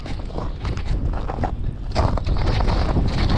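Strong, gusty wind buffets across open river ice during bad-weather ice fishing on the Pechora, a loud rushing roar that surges and swells near the microphone.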